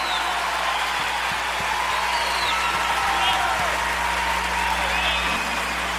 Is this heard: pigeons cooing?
no